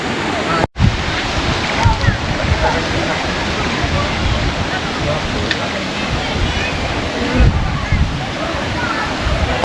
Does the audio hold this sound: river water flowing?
yes